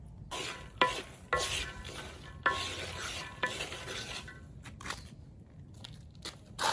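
Groundnuts rattle and scrape in a pan over a firewood fire as they are bulk-fried and stirred, with a soft sizzle and sharp scraping strokes at irregular intervals.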